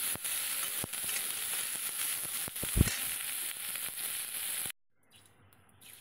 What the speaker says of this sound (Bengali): ফুলকপিটা বেশ লাল লাল করে ভেজে নেব